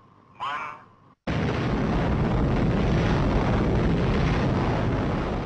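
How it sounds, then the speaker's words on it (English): After a short sound and a moment of silence, an explosion at the end of a countdown bursts in as a sudden, massive roar that holds loud and steady, broad and rumbling, with no voices over it. "This explosion is one of the most beautiful sights ever seen by man"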